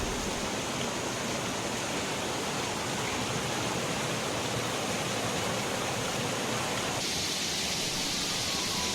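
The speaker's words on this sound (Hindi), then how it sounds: "ये झरना बहुत ही ऊंचा है और यहाँ से नीचे उतरना बहुत ज़्यादा खतरनाक हो सकता है।" A tall waterfall and mountain stream in Barot valley, a steady, loud, dense rush of falling and flowing water filling the whole clip, close by with no voices.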